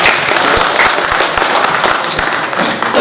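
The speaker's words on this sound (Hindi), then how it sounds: "एक बार रमजान भाई के लिए जोरदार तालियां बजा दीजिए" Loud, dense applause from an audience at a ghazal and poetry gathering honoring Ramzaan Bhai, steady clapping filling the whole stretch without a break.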